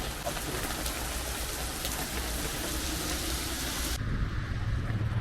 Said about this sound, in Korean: 비가 너무 많이 와요 너무 많이 엄청 힘들어요